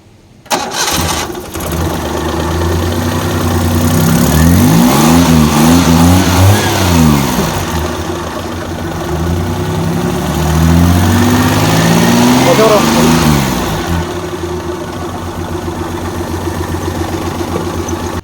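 A Maruti Omni engine fitted into a 72-year-old Morris car idles and then revs up in two loud, rising bursts, settling back to a steady near idle between and after them.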